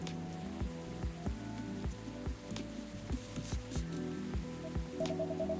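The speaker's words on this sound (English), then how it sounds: "A place to be safe while the rain falls outside." Steady soft rain falls outside in the video game Coffee Talk Episode 2: Hibiscus & Butterfly, a continuous patter layered under gentle melodic music with regular soft notes, quiet and even throughout.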